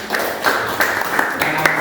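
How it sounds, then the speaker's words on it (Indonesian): Students in an automotive engineering classroom clap together in a short burst of brisk, uneven applause that stays close and fairly loud for under two seconds, with a few sharper slaps standing out. "Tepuk tangan untuk Mbak Niken."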